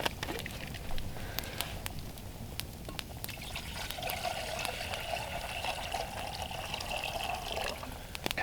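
Water trickles and pours into a pot at an outdoor camp in rainy snowfall, a steady liquid stream that grows fuller midway, close by with faint background patter.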